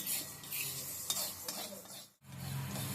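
Close sizzling as sago pearls fry, with a spoon scraping and stirring through the pan; the sound cuts out briefly near the end, then resumes.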